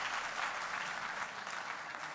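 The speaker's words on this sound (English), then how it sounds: "let's clap for him" An audience claps together in sustained, even applause, a soft dense patter heard at a distance for the length of the moment.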